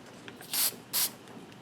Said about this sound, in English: that's a pretty good spray